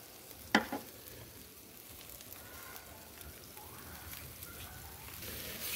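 Fish such as matrinchã grilling over a barbecue, giving a soft, steady sizzle and faint crackle with one sharp pop near the start.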